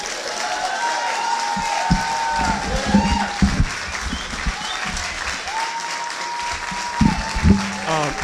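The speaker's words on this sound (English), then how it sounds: "Give her a real round of applause." An audience at a portrait unveiling ceremony applauds in sustained clapping over several seconds, with a speaker's voice heard over the applause.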